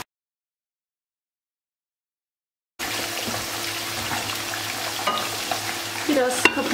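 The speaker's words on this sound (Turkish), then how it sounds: "Kıymayı öncelikle kavuracağım." Ground beef, 350 grams of half-fat mince, frying in a pot and being stirred, a steady close sizzle with wet bubbling and occasional scraping of the spoon, starting abruptly after a few seconds of silence.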